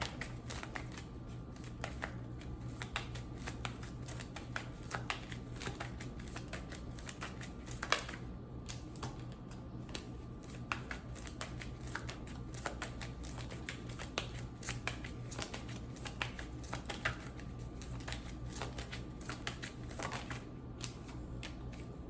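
Playing cards shuffle over and over close by, a dense run of crisp riffling flutters and slaps, with one louder snap partway through and no talking.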